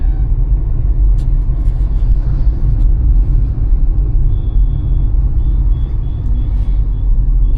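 A car rolls along a road in moderately smooth traffic, heard from inside as a loud, steady low engine and road rumble, with faint distant vehicle sounds and no talking.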